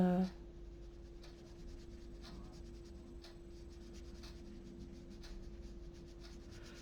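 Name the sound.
rubbing paper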